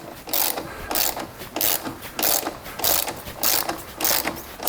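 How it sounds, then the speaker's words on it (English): A ratchet wrench with a 13 mm socket tightens the shock bolt on a KTM Super Duke motorcycle, giving loud close clicking bursts in a steady rhythm, about eight strokes with brief pauses between. "Now we go back to this side with the 13 millimeter, and we really tighten it,"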